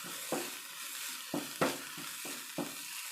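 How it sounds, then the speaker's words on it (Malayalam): Chili powder and turmeric being stirred into a pan for a Kerala payar thoran, with a soft steady sizzle and several distinct scraping strokes of the spoon at an uneven rhythm, close and fairly quiet. "ഇച്ചിരി പൊടി, അതേ കണക്ക് ഇച്ചിരി മഞ്ഞൾപ്പൊടി നന്നായിട്ട് മിക്സ് ചെയ്യാം കേട്ടോ."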